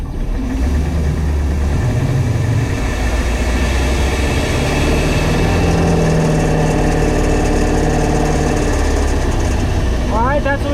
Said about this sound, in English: That's what we call spark knock.